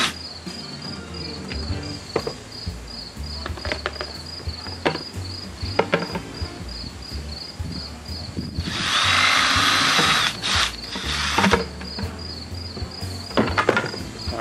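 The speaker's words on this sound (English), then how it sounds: "I should have just gone ahead and drilled my air vent hole over here." A power drill bores an air vent hole through a plastic bucket lid for a portable concession sink, a loud whining burst of about two seconds midway amid scattered tool clatter, with a steady high insect-like chirp throughout.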